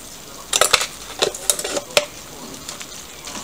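Softened onions stirred in a pan with a utensil, several close scraping clinks in short irregular bursts over a quiet, faint sizzle.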